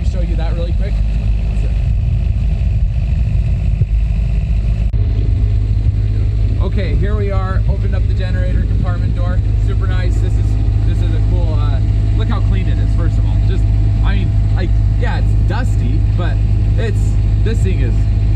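An 8,000-watt Cummins Onan diesel generator on a 2013 Fleetwood Expedition motorhome runs with a loud, steady low droning hum throughout, while someone speaks over it.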